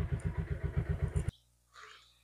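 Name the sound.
second hand motorcycle engine running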